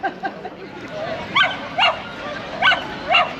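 A Labrador at a dog agility show at Chatsworth Fair gives four short, sharp barks spaced about half a second apart, with faint yips and outdoor crowd murmur underneath.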